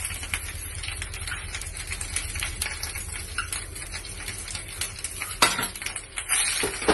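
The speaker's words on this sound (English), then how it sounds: "just want to saute it for 5 minutes" Moringa leaves and green chilies sauté in a pan for chutney, with clinking spoon-on-metal scrapes and stirring over a soft sizzle, fairly quiet, ending in a couple of louder clatters.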